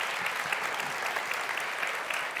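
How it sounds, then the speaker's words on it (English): Audience applause fills a live event: steady, dense clapping from a large crowd, loud and continuous throughout with no voices on top. "a big round of applause"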